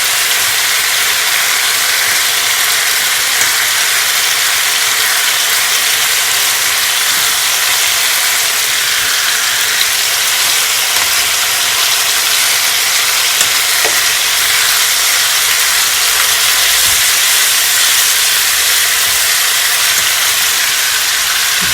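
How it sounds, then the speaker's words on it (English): Browned chicken pieces sizzling loudly in a pan after being flipped, a dense continuous frying hiss that holds steady throughout, close up with no voices. "I'm just gonna flip over my chicken."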